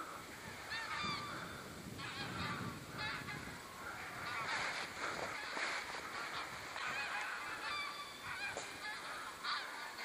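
Geese honking repeatedly in a loose, overlapping chorus from an observation tower 38 meters up above a forest near Giżycko, Poland, steady and moderately distant throughout with faint background hiss.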